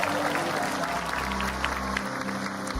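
Short burst of clapping from a small group during a visit to a private home, moderately close and mixed with a low steady hum and background voices.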